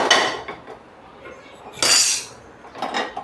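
A pressure cooker set down on a gas stove while making veg biryani, heard as a few close metallic clanks and scrapes of cookware in quick succession.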